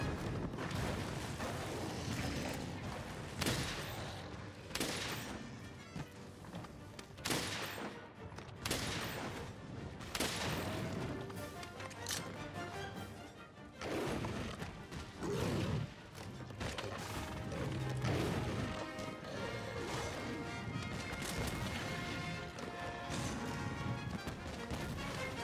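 Heavy bowgun fire in Monster Hunter World: rapid, loud bursts of gunfire and booming impacts repeat almost continuously through the fight, with crashes and explosions layered in and no clear talk.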